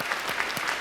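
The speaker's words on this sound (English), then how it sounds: "please give yourself just a big round of applause for that." Audience applause at a talk, dense steady clapping from many hands heard close and fairly loud, with no voices over it in this brief stretch.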